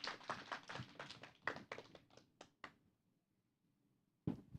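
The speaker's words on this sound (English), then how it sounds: "Please give a big round of applause" An audience at a Toastmasters meeting claps in a brief burst that thins out to a few last claps, leaving near silence before one more sharp tap at the end.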